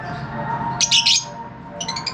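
Small caged birds in an aviary, including yellow and blue varieties, let out a quick burst of bright chirps and then a shorter run of tweets over a low steady hum.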